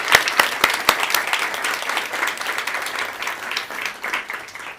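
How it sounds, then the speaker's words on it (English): Audience applause at the Nobel Peace Center honoring the Nobel Peace Prize laureate: a crowd clapping steadily for about five seconds, with a few sharp, louder claps near the start and no voices. "join me in a round of applause for Nihon Hidakuyo and the Nobel Committee"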